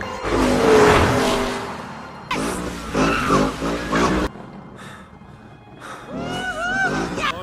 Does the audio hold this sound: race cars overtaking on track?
yes